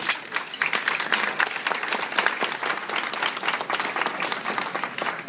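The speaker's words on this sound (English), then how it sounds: "Everybody give them a round of applause." A room full of people gives sustained applause for newly installed board members, with dense, continuous clapping heard up close.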